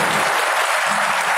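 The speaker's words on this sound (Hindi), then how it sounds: "ताली बजा करके उपराष्ट्रपति जी का स्वागत कर सकते" An audience at BITS applauds the Vice-President of India, a dense, loud, continuous burst of clapping from a large crowd filling the hall.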